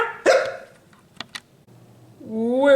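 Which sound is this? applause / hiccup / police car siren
hiccup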